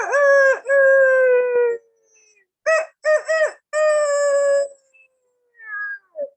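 A human voice imitates a chicken, giving a loud close run of clucks and drawn-out cackling calls in several bursts with short pauses between them.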